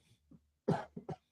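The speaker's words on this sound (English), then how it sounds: "I'm just coughing my guts up as standard" A man coughs hard in a short cluster: one loud, rough burst followed by two quicker coughs, close to the microphone, during a live rugby league discussion show.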